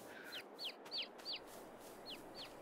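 Chickens clucking on a farm in the video game Farming Simulator 22, a run of six short, quiet, rising clucks spaced roughly evenly over a low steady background hum.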